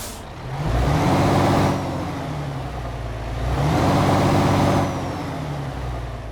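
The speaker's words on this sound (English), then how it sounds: "let's get this MAN TGX started up and get on the road." A MAN TGX truck engine in Euro Truck Simulator 2 starts and idles, a deep diesel rumble that swells twice in long revving surges before settling back to a steady loud idle.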